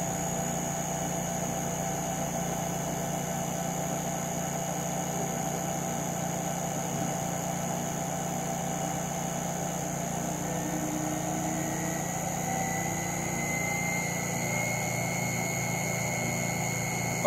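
A Brewer Science 100 spin coater spinning at 4,000 RPM gives a steady, even machine hum with constant tonal whine, unchanging throughout and heard alone.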